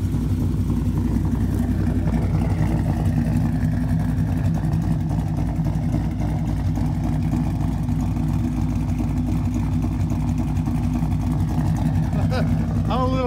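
A twin-turbo stick-shift Mustang GT with a ghost cam tune rumbles steadily with a loud, choppy low-end drone throughout, while people talk over it.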